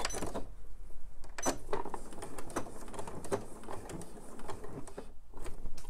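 A sewing machine stitches a quarter-inch seam on a fabric purse, running in short uneven bursts of rapid mechanical clatter with brief pauses in between, close and fairly quiet.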